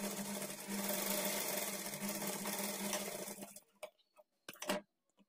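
A sewing machine runs steadily stitching blouse fabric, a close, buzzing rattle of the needle for several seconds before it stops, followed by a few sharp clicks and taps.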